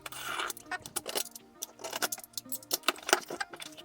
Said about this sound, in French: Donc on va ouvrir la box